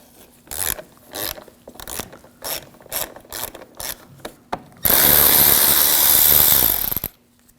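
A ratchet clicks in a series of quick bursts as a T20 socket backs out screws on a 2006–2009 Audi S4 fog light bezel, close and crisp, followed by a few seconds of loud whirring from a power tool before it cuts off.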